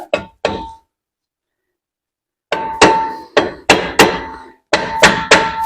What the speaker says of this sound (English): I like to bang around it and get it to break loose.